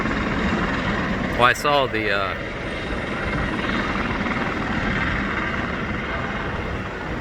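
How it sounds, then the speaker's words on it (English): Helicopter flying low overhead during a bike delivery ride, a loud continuous rotor and engine roar that holds steady throughout, with someone speaking briefly over it near the start. "then the helicopter came down"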